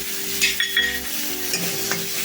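Whole spices, onion, garlic and curry leaves fry in hot oil for a garlic and cashew curry gravy, giving a continuous close sizzle broken by a few scraping stirs of the pan, with no talk.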